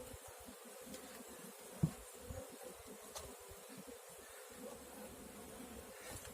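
Honey bees buzz around an open hive in early spring, with only a few bees flying; a steady low drone hums close by, broken by a brief louder thump and small bumps.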